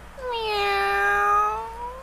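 A single drawn-out meow from a white cat, clear and close, rising then falling, with nothing else around it.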